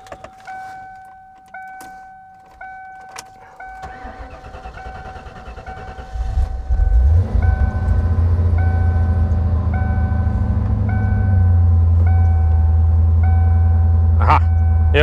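A Ford Mustang fitted with Flowmaster exhaust cranks and fires up on a very cold day, after a few faint clicks and dings, then settles into a steady, fairly subdued low idle that carries on to the end.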